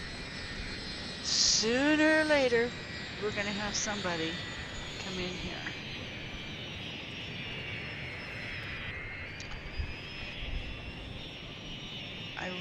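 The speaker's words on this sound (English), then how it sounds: "Here comes another plane." An airplane flies in within the city-building game Cities: Skylines, a steady jet engine drone that holds throughout, moderately loud, while someone talks over its early part.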